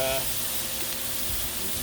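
Steam hisses and sizzles steadily on a Blackstone griddle cooking fried rice under a cover, a continuous broad spray-like sound at moderate level.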